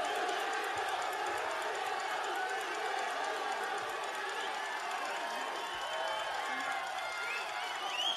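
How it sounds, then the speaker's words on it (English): A large, excited crowd cheers and hollers at the New York press conference for the Canelo vs. GGG boxing fight, a steady, fairly distant roar of voices that carries on the whole time without pause. "We've got a very excited crowd here today"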